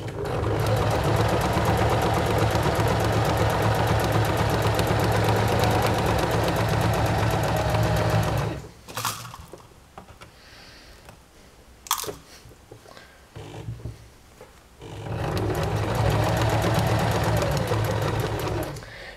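A sewing machine stitches a pinned fabric seam on a drawstring bag. A close, steady motor whir runs for about eight seconds, stops for a stretch of quiet handling noises, then starts again.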